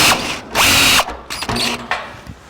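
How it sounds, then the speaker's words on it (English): Drill boring a large hole through the firewall of a 1949 Chevrolet gasser, loud close bursts of grinding and ratcheting that start and stop in short, uneven spurts. "Here we are drilling a big hole in the firewall for our wiring"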